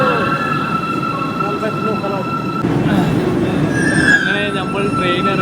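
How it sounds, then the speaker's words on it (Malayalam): A Cairo metro train pulls into a station, its steady electric whine and rumble swelling as wheels squeal and screech sharply near the end. "അങ്ങനെ നമ്മൾ ട്രെയിൻ വരുന്നുണ്ട്"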